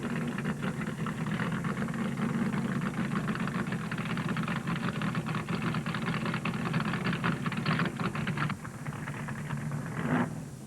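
A 1971 NASCAR Winston Cup stock car, a Ford, dives down pit road for fuel during the Motor Trend 500, its engine a steady loud roar over crowd and track noise that eases slightly near the end.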